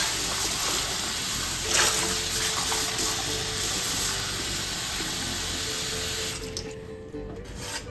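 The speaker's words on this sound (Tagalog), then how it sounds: "Hugasan na rin po natin ang ating sibuyas." Water runs from a kitchen tap as onions are washed under it, a steady close hiss of flowing and splashing water that eases off near the end.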